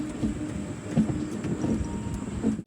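The Himsagar Express rolls on toward Renigunta station, heard from inside a sleeper class coach as a moderate steady rumble with soft periodic wheel thumps on the rails.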